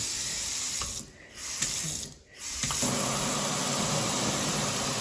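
A kitchen sink tap runs steadily beside black and stainless steel appliances, a constant close rush of water that briefly dips twice as the flow is interrupted, then resumes fuller.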